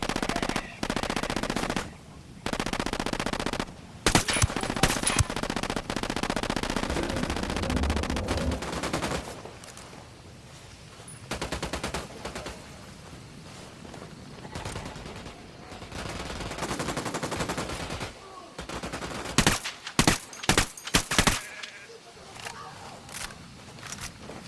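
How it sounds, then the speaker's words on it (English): Ghost Recon Wildlands firefight: repeated bursts of automatic gunfire and single shots, sharp and loud, in irregular clusters separated by quieter gaps, with a dense volley near the end. "I'm opening fire on these shitheads."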